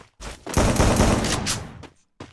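UMP submachine gun firing in the mobile battle royale game Free Fire: loud, dense bursts of rapid automatic gunfire filling most of the clip, ending with a brief final shot.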